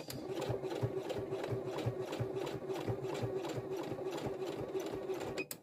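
A domestic sewing machine stitches a backstitch, its needle thumping in a steady rapid rhythm over a constant motor hum, close and unbroken until it stops abruptly at the end.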